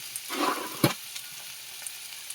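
Fish masala with turmeric and chili powder frying in a pan, a short burst of sizzling and a sharp spatula knock, then quieter faint sizzle.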